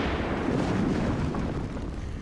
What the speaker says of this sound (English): As soon as we get on that, explosions commence.